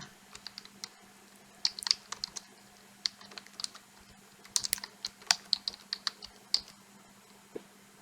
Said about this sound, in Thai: พิมพ์ชื่อบริษัทค่ะ